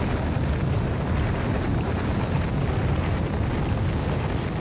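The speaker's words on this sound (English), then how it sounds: "Skittles come to watch the rocket launch" A rocket launch in the Factorio game with the Krastorio mod gives a steady, dense roar of rumbling thrust, loud and unbroken throughout with no voices over it.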